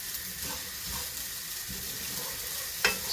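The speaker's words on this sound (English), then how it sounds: "and stir the rice." Rice is stirred in a sizzling curry pan with chicken and spring onions, giving a steady background sizzle with soft scraping stirs and one sharp clink near the end.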